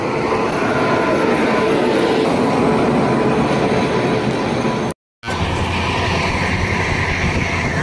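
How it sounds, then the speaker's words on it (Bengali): A passenger train nearing Kharagpur station gives a steady, loud, broadband rumble with rattling wheels, heard from inside the carriage, with a brief dropout midway. "ট্রেনের গতি, খড়গপুর রেল স্টেশনে পৌঁছে গেল ট্রেনটা।"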